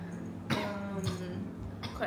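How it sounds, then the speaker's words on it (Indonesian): A person coughs several times, set off by a fan blowing nearby. The coughs come as short bursts spread over a couple of seconds, with talk and a steady fan hum underneath. "Kipasnya buat gue batuk."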